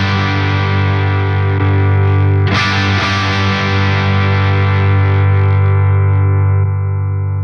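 Distorted electric guitar through a Friedman IR-X twin-channel valve preamp, its boost used as a clean volume lift with no added gain: sustained chords ring loud and saturated, with a fresh strum partway through, alone without talk.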